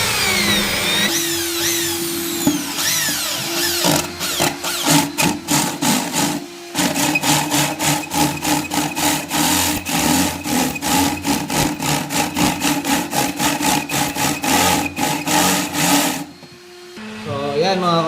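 A hole saw bores through a ceiling panel to fit a pin light, a loud steady whirring grind with rhythmic chattering pulses as the teeth bite, pausing briefly midway before winding down.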